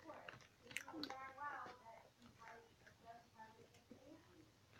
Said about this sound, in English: Sorry if you see chewing in the background.